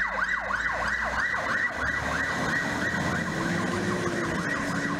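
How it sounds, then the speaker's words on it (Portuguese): A fire truck siren wails repeatedly in fast rising-and-falling sweeps as the engine leaves the station, later shifting to a steadier drawn-out tone over traffic rumble on a city street. "O caminhão já saiu do quartel com a sirene ligada."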